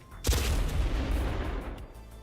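A starship cannon in No Man's Sky fires a rapid stream of loud, booming blasts that merge into a dense, sustained rumble with a strong low-end thump, lasting about two seconds before tapering slightly.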